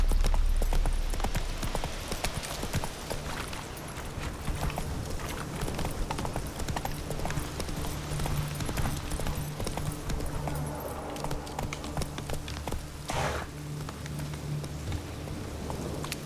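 Horse Roach's hooves clip-clop at a steady galloping rhythm in The Witcher 3, close and continuous over a wet bed of rain with a low rumble of distant thunder near the end.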